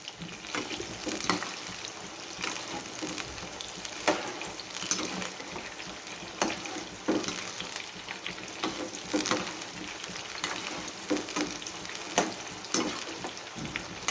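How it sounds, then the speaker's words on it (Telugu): Brinjal pieces for a spicy vankaya karam curry frying on high heat in a pan until reddened, giving a steady crackling sizzle with scattered sharper pops and no talk. "ఇవి ఎర్రగా వేపుకోవాలి బాగా."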